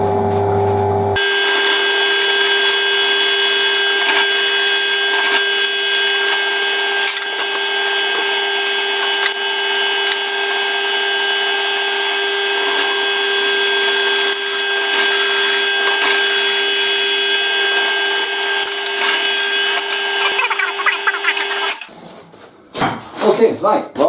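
A power tool whines at a high, steady pitch for a long stretch while cutting pine, then cuts off near the end as the motor winds down.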